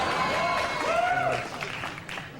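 A television talk show studio audience applauds in a steady wash of clapping while a host speaks over it.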